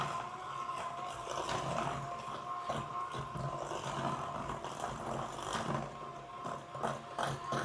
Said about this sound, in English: let's continue beating these ingredients until they're well combined